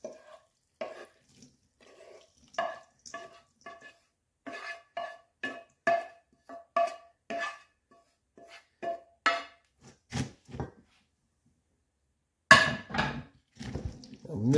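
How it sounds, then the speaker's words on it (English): A spoon stirs stuffing mix in a large bowl, giving repeated close clacks and wet scraping knocks in an uneven rhythm, with a louder burst of sloshing near the end. "Mix it around."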